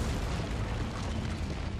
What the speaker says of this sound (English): Final little explosion there was kind of cool.